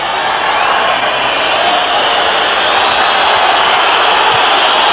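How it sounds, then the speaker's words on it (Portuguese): A large crowd of Corinthians supporters in a football stadium during a 1999 Brazilian championship match against Palmeiras, a loud, steady roar of massed voices that holds level throughout, consistent with sustained booing. "Agora bastante vaiado pela própria torcida do Corinthians."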